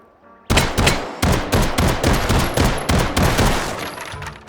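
A Luger pistol in the video game H3VR fires a rapid string of about seven or eight loud, sharp shots in quick succession, each with a short echoing tail, with no talking.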